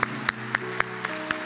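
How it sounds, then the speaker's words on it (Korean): Church congregation claps in thanks, a handful of crisp, evenly spaced claps about a quarter second apart over a low steady hum, with no talking. "우리를 포기하지 않고 우리에게 회개할 기회를 날마다 허락하시는 그 하나님께 우리 감사의 박수 드리겠습니다."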